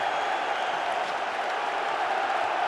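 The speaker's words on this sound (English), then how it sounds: "Gets a huge cheer, and boy, does he need it." A handball arena crowd at a European championship match between Serbia and Croatia roars in a steady, loud, sustained cheer with no pauses.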